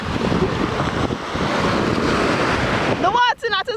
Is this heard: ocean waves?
yes